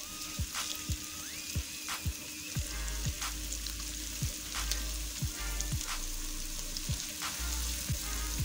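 Garlic ginger paste sizzles and crackles steadily in hot oil for an egg gravy, with soft stirring clicks and scrapes at irregular intervals over the continuous frying.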